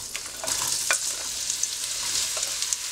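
Onions and garlic frying in olive oil in a large pot, a steady bright hiss with occasional soft stirring scrapes, close and even throughout, no voices.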